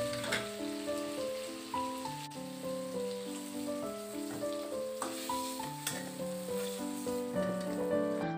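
Potato and pointed gourd pieces fry in oil in a kadai, producing a soft, steady crackling sizzle under prominent melodic background music.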